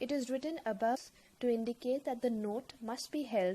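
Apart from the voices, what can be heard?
No everyday noise stands out behind the speech.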